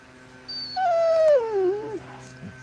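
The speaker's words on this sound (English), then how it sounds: "Puppy's whining because she wants to get in my lap." A puppy whines in a long, high, falling tone, thin and plaintive, close by with a faint whimper trailing after.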